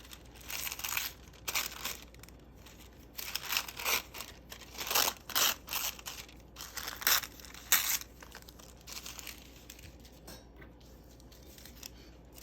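Tissue paper crinkled and handled during card-making with glue and paper crafts, a series of close crisp rustling bursts in uneven clusters, then quieter handling near the end, with no talking.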